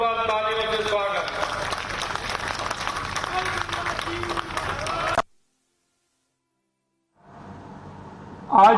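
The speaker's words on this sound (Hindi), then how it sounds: "सम्मान में जोरदार तालियों से स्वागत।" Audience at a Rajasthan political booth event in Jaipur breaks into loud, steady applause with cheering for about five seconds, then cuts to silence before a voice resumes and rises near the end.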